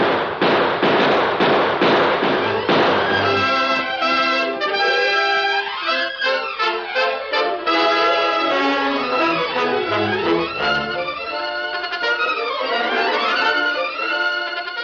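Gunshots ring out in a radio western drama, a burst of sharp rapid cracks at the opening, then a dense musical sting with descending and rising tones carrying loudly to the end.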